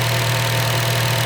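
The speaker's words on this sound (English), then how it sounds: "You hear clicking in the background. That's just the K-Series engines are just known for having loud injectors." A 2006 Honda Civic Si with a K-Series engine idles steadily with a loud, even drone, and a fine rapid ticking from its fuel injectors sits in the background.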